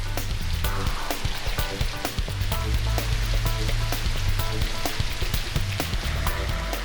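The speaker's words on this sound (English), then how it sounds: "we should have the perfect amount of rain" Artificial rain from a rain machine, a dense steady patter of drops hitting a surface, continuous and fairly loud with no talking.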